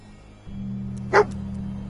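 A single short bark from Dogmeat, the dog companion in a video game, sounding once over a steady low hum.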